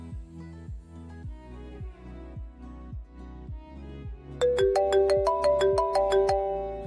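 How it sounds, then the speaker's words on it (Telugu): A mobile phone rings with a bright melodic ringtone that enters partway through over a steady rhythmic music track, repeating a chiming note pattern loudly and close. "అమ్మా, రింగ్ అవుతుంది."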